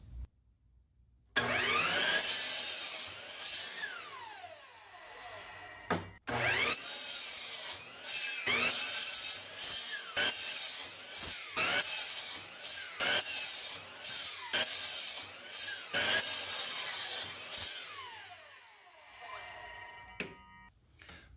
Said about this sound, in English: Got some leftover bits of 2x4. Let's do something fun. Cut them into squares.